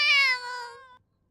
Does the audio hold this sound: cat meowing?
yes